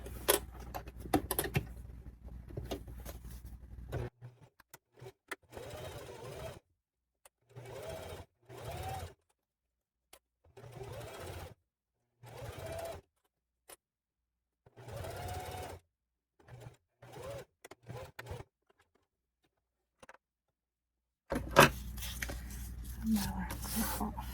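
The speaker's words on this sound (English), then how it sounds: "Now we're going to sew it at an 1/8 inch seam allowance." A sewing machine stitches a zipper seam at an eighth-inch allowance on a handbag, running in repeated short bursts with brief pauses between them and a louder final stretch.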